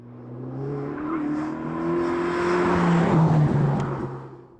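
A 2020 Ferrari Roma's V8 engine drives on a road in Italy, a smooth, loud drone that rises steadily in pitch as the car accelerates. No one speaks over it.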